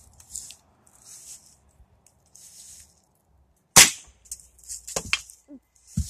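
A single sharp crack from a Ruger Impact Max .22 pellet rifle firing, close and loud, followed by a few quieter clicks and handling noises after faint earlier rustles.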